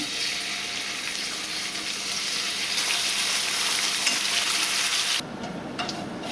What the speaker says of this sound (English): Fry up a couple of slices of bacon.